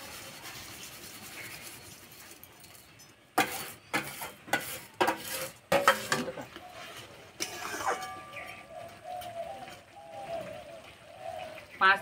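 Fried vermicelli is tipped into a pot of boiling broth and stirred, giving a run of clattering scrapes and knocks of a utensil against the pot, then softer bubbling and stirring sounds.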